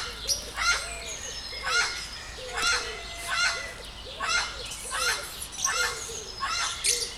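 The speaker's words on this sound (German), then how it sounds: "Ein Papagei." A parrot calls repeatedly in a steady series of loud, harsh squawking bursts, roughly one every half second to second, near and clear over low background noise, with no talk during the calls.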